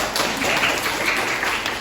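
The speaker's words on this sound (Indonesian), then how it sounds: "kasih tepuk tangan untuk kelompok 2" Students in a classroom give a group a round of applause, a dense, steady patter of many hands clapping at once, close and continuous for a couple of seconds.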